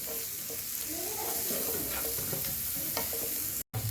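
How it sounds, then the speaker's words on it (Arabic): Onions frying in a pan sizzle steadily up close while a utensil stirs and scrapes through them, and the sound cuts out briefly just before the end. "وافضل اقلب فيهم لحد ما ياخدوا معايا لون"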